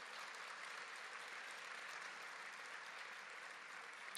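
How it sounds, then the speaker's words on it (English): Steady, dense applause from an awards ceremony audience honoring chamber members and event committee, sustained evenly at moderate distance throughout with no voices over it. "can we please have another round of applause for the chamber members and committee"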